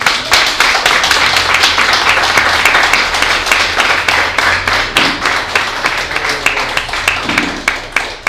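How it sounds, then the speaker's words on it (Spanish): A church congregation bursts into loud, close clapping for the Lord during a sermon. Many hands strike together with a rhythmic pulse that stays strong throughout. "¿Cuánto le dan un aplauso al Señor?"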